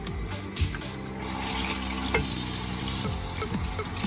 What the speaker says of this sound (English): I'm just gonna run it under water